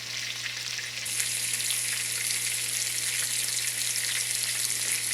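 Burger patties brown in a frying pan for a church potluck, sizzling steadily and fairly loudly, the hiss swelling after a second and holding on without talk.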